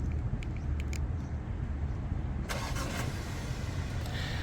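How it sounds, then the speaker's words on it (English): 2024 BMW X2 engine started remotely, a faint, steady low rumble that settles into a smooth idle, heard from outside the car with a brief higher-pitched whir partway through. "You can triple click the lock button to remote start the engine."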